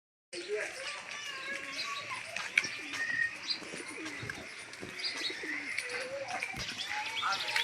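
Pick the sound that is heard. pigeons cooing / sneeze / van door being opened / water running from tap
pigeons cooing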